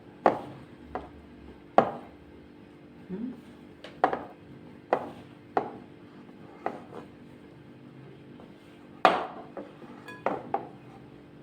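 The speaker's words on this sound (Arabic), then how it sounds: "انا عاوزه بس احط فوطه كده تحت الطبق عشان ما يعملش الصوت اللي هو بيعمله ده" A plate clatters and knocks against a kitchen counter while dough is kneaded by hand, giving repeated sharp hard clacks at uneven intervals, fairly close, with soft rubbing between hits and no talk.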